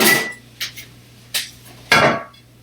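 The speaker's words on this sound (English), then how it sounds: "So we're going to bring over our pan" A metal baking pan is brought over and set down on a kitchen counter while making cherry oat bars, giving a few short clanks and scrapes, the loudest at the end, close and alone with no talk.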